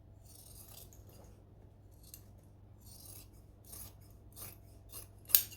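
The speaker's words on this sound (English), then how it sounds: "I'm just going to use some normal scissors." Ordinary loose scissors trim excess fabric from a sewing-pattern saddle bag, giving a series of soft, crisp snips over a quiet hum and ending in one sharper, louder cut.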